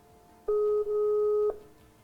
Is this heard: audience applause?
no